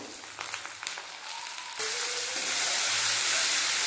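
Onions frying in oil in a pan for a snail curry give a steady, close sizzle that grows louder and denser partway through, with no talking.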